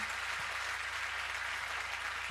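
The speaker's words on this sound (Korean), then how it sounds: "우리 뜨거운 박수로 환영해 주시면 감사하겠습니다" Applause at a broadcaster's anniversary thanksgiving worship service, honoring an award recipient: a dense, continuous, fairly quiet wash of many hands clapping at once, steady from start to finish.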